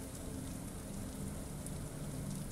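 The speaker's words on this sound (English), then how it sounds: "Rain cascades down the multi-paned windows" Rain falls on multi-paned windows of a castle room by the sea, a constant soft patter and hiss that stays even throughout, faint and unbroken by any voice.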